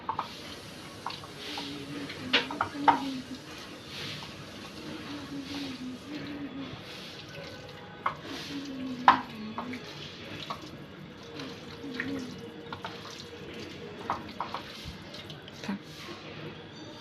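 Basmati rice is rinsed in water, with soft sloshing, trickles and scattered drips and taps against a bowl, fairly quiet and close, a few louder splashes standing out.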